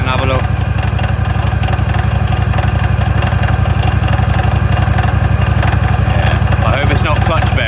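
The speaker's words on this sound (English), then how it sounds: "That sounds like a pulley noise." A Scag ride-on mower with a Kawasaki engine idles steadily and loudly close by, a continuous mechanical drone with a rhythmic whirr from a suspect pulley running underneath.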